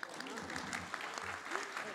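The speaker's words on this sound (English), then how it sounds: "You guys can all clap." Faint conference audience applause at a health policy luncheon plenary, a steady patter of many hands clapping with voices mixed in, fairly distant and quiet throughout.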